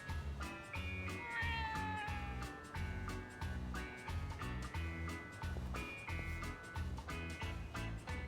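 A stray cat meows in the video game Yakuza: Like a Dragon, with several high, sliding meows standing out over a loud, steady beat of game music throughout.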